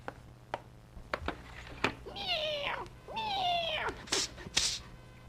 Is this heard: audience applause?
no